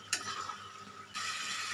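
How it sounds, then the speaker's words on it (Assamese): Meat curry being stirred and fried in a pot, a close hiss of frying with a sharp utensil scrape near the start and the sizzle swelling louder in the second half. "এতিয়া আকৌ অকণমান ভাজি লওঁ।"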